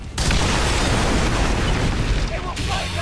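An explosion in the video game XCOM 2, a sustained loud rumbling boom of about two and a half seconds that stands alone at full loudness.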